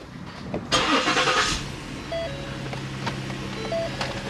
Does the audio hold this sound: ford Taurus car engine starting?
yes